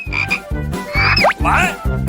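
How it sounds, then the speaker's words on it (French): A frog croaks in a series of loud, close, rhythmic bursts, each a throaty pulsing call with a rising whistle-like sweep mixed in, repeating about every half second. "Mais qu'est-ce que je dois faire avec une grenouille?"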